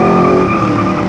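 Loud, dense roar of classic car engines, including an Oldsmobile, revving hard at close range as they launch from a race start at Satigny in 2011, a brief continuous burst of racing engine noise.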